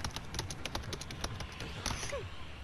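Rapid, uneven clicking of computer keys being typed on, close up, with light taps spread across a couple of seconds.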